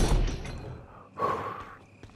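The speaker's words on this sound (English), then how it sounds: "You might be hearing a lot of heavy breathing this episode because it is hot" Two heavy breaths, a long exhale followed by a sharper gasping breath, close and fairly quiet.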